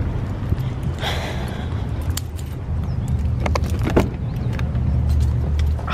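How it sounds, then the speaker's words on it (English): A car heard from close by, a steady low engine rumble with a few sharp clinks and jangles over it, like keys or doors being handled. "to Jose's car"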